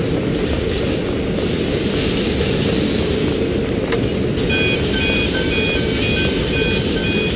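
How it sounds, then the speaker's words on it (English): A factory alarm in the Poppy Playtime video game sounds as a series of repeated, evenly spaced high beeps over the constant loud drone of machinery. "That sounds like an alarm."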